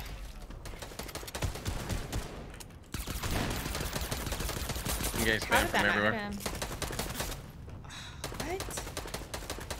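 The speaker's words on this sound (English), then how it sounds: "I'm getting shot by four people right now." Dense, fast gunfire from several shooters in Fortnite, crackling continuously for most of the stretch with brief gaps, while a player talks over it.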